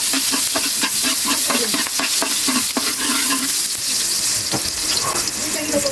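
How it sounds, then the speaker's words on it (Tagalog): Garlic sizzles loudly in a hot pan while being stirred, a dense, close frying hiss with quick scraping stir strokes throughout, and no talking. "So mainit na ang kawali, pwede nang ilagay ang bawang."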